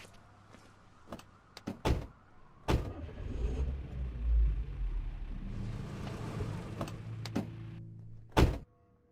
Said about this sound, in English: Get in my car and I'll drive you here.